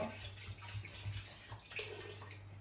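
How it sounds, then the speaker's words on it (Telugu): Water poured into a cooking pot holding country chicken for Andhra-style natu kodi pulusu, a soft, steady splashing pour close by with a faint low hum underneath and no talking. "మనము సరిపడా నీళ్ళు వేసుకోవాలి."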